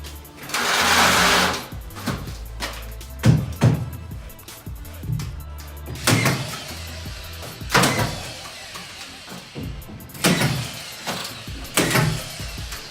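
A screw gun drives screws into plasterboard in a series of short whirring bursts, each rising then stopping, with handling knocks and pauses between, close and fairly loud.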